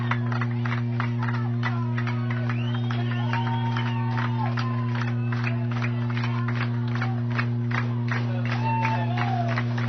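Boisterous home-side Mt. SAC crowd at a state championship softball game, cheering, clapping and whooping steadily throughout, with a constant low hum underneath and scattered voices in the stands.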